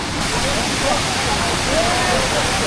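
Pha Xai waterfall in Laos pours in a steady, loud broadband rush, constant throughout with no break, its spray and churning water filling the whole scene.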